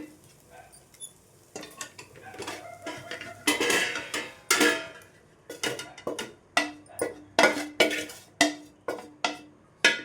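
Fried vegetables and egg being moved from a pan onto a plate for egg fried rice, a run of close, sharp scraping and clinking strikes of a utensil against metal and plate, growing denser and louder toward the end, with no talk.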